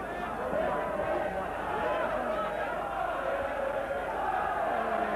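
A boxing arena crowd roars in a dense, continuous wash of cheering and chanting, steady and loud, with a commentator talking over it.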